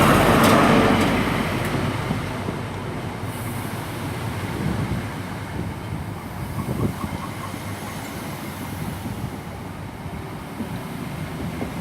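An HST high-speed train from London Paddington to Swansea, power car 43126 at the front, runs through Patchway with a loud rush that eases into steady wheel rumble, rail clatter and faint squeal as it carries on.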